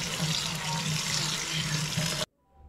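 Rice is washed in water for a biryani, giving a continuous rushing, sloshing water sound close up that cuts off suddenly after about two seconds, leaving near silence.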